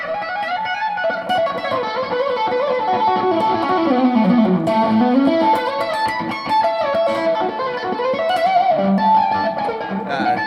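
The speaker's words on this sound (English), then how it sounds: "And then I can turn the reverb on again." An electric guitar plays through a small 5-watt amp with its reverb switched on, in a distorted blues style with continuous melodic lines and sustained notes at steady, moderate loudness.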